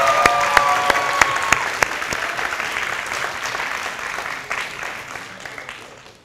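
Audience at a dance show applauding, a full burst of clapping that starts strong with a few sharp claps standing out and gradually fades away over about six seconds.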